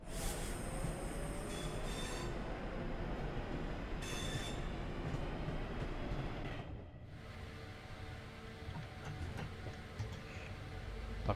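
Simulated train rolling on rails in Train Sim World 3 on the Birmingham Cross City line, with a continuous loud rumble, clacking and some wheel squeal, easing briefly before picking up again.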